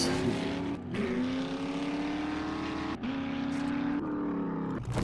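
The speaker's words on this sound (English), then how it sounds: "I can't hear you over the car. Over this sweet, loud car?" A loud car engine from the survival game 7 Days to Die drones steadily and close, its pitch holding even with a few brief dips where it drops out.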